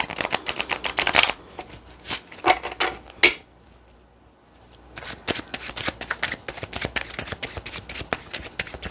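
Crisp riffling bursts of a thick tarot card deck being shuffled up close, in uneven spurts separated by short pauses and a brief quiet stretch.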